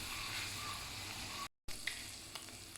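Prawns fry in a pan of hot oil with a steady, close sizzle that cuts out briefly and then resumes, with a few small pops and spatters.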